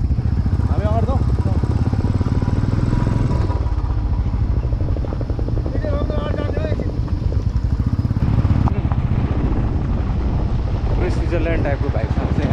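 A motorcycle engine runs steadily throughout a trail ride on a rural route in Makwanpur, Nepal, with wind buffeting the microphone and someone talking over it.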